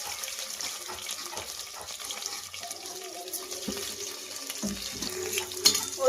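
Chopped onion frying in well-heated oil in a home curry pan, a steady broadband sizzle with small crackles and pops throughout, close by, with no talking.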